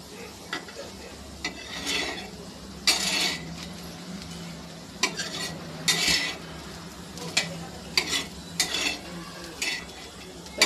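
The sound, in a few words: flipping and frying bitter gourd in a pan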